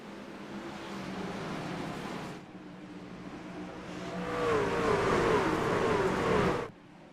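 Race trucks roaring around Milwaukee in the iRacing sim, a dense pack of engines droning, then swelling louder with rising revs before cutting off abruptly.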